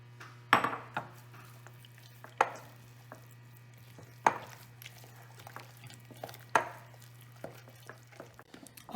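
Eggs being mixed into eclair choux dough in a pot, with a spoon knocking against the pot in sharp, irregular strokes roughly every second or two over a low steady hum, with no talking.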